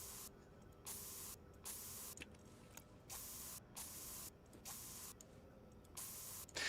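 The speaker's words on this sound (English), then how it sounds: "I can just spray paint these pipes too here" Spray painting pipes in Stationeers, heard as a series of roughly nine short hissing aerosol bursts in a steady on-off rhythm over a faint mechanical background.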